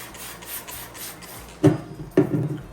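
A stencil brush scrubs and dabs rust-colored paint onto a model with soft rhythmic rubbing strokes, followed by two sharper, louder scratchy dabs near the end; close-up, with no talking.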